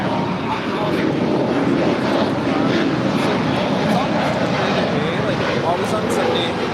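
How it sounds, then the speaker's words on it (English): A Spirit Airlines A320neo departs LAX as a continuous loud, wide jet roar at close range, with voices talking over it. "our next departure is Spirit Airlines Flight 2000 heading to Chicago O'Hare. It's an A320"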